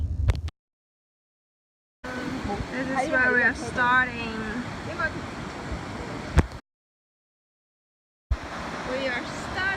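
A raging river rushes in a broad, steady wash of water noise, cut by stretches of silence, while people talk over it.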